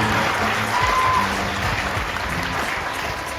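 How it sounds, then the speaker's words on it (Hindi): An audience at a direct-selling seminar claps for a speaker's mother, a steady wash of applause at constant level with a faint tone running through it and no voices on top. "मैं चाहूंगी मेरी माँ के लिए एक बार जोरदार ताली होनी चाहिए"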